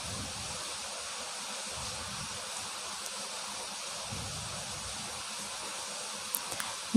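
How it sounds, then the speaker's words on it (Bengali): Basmati rice for chicken biryani cooks in a pot, giving a steady, even hiss of boiling water with faint bubbling throughout. "এখন চালটাকে আমি রান্না করে নিচ্ছি।"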